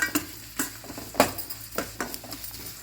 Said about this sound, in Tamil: வெங்காயம் ஓரளவு வதங்கி வந்தால் போதும்